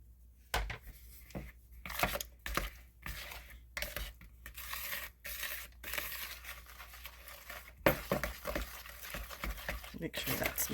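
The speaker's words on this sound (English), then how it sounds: "we're going to mix that up" Molasses cookie dough being stirred in a bowl, with irregular bursts of scraping and thumping from the spoon against the bowl, some loud and close, and soft talking between strokes.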